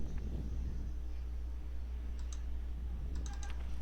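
A computer mouse double-clicks while a BIOS frame buffer size setting is adjusted on a Ryzen 5 3400G system; the clicks are soft and brief over a low steady hum.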